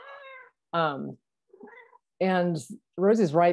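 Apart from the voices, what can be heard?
pet cat meowing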